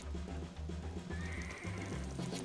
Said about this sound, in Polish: O nie, biedny koń, co ja zrobiłem?